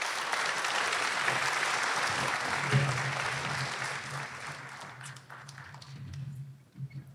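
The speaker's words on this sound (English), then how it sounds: "Let's give Anne Burrows a big round of applause." An audience at a public conversation event gives a big round of applause, loud dense clapping from many hands that holds steady, then thins and fades toward the end, with a low hum underneath.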